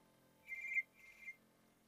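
Two short electronic telephone rings in a quiet room, each lasting about a third of a second, fairly faint with a brief gap between them.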